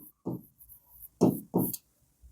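Marker or chalk strokes on a classroom board during a maths lesson, several short scratchy bursts in an irregular rhythm, close and fairly clear, with gaps between strokes.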